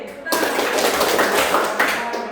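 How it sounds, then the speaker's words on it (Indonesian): A class of ninth-grade students clapping in unison during a social studies lesson, a loud dense burst of hands that rises suddenly and holds with rhythmic peaks, voices faintly mixed in. "kalau ibu bilang berkemas, tepuk tangan 3 kali"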